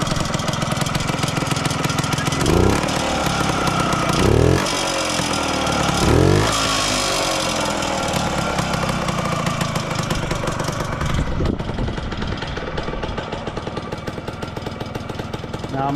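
A 1966 Jawa Land Patrol motorcycle engine runs loud and close throughout, a steady two-stroke drone with several sharp revving surges early on, then settling to a lower idle near the end.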